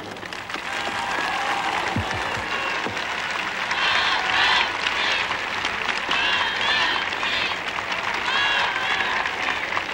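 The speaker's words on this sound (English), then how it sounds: "Now, stand by for an ovation." A Vienna figure skating crowd breaks into a loud, sustained ovation after a pair's final spin, dense applause and cheering that runs unbroken throughout.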